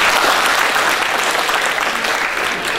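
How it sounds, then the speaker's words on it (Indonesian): An audience at a university event claps loudly and continuously, a dense, even wash of applause that holds steady throughout and eases slightly at the end. "Tepuk tangan dulu."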